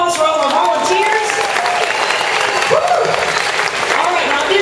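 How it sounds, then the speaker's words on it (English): Theme-park audience applauding volunteers at the Indiana Jones Epic Stunt Spectacular at Disney's Hollywood Studios: a loud, dense crowd ovation with cheers and whoops rising over it, sustained throughout. "Another big round of applause for all the volunteers"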